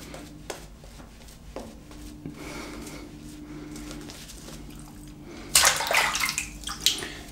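Tap water runs briefly into a shaving bowl of Benny's of London cream, a faint trickle giving way to a louder, close rush of flowing water near the end.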